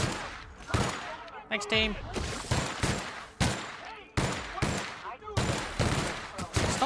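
A big gun fires in the sci-fi game The Outer Worlds, loud repeated blasts at irregular intervals of roughly half a second to a second, each with a sharp attack and decaying tail, with a brief spoken voice mixed in.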